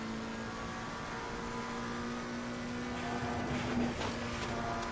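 A race car engine in Assetto Corsa Competizione at Spa drops its steady drone as the driver lifts off the throttle, a continuous mechanical hum with a brief change near the end.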